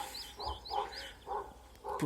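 A dog barks repeatedly at a distance in a village, a few irregular woofs, with birds chirping and faint outdoor ambience.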